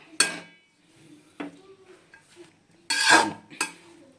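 A spoon stirs grated carrots frying in a pan for carrot halwa, making a few sharp scraping clinks against the metal with quiet gaps in between.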